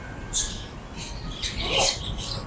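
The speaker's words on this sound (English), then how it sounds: "lots of budgies down here" Budgies kept in cages in a pet bird shop chatter and squawk, scattered fairly faint chirps over a steady noisy indoor background.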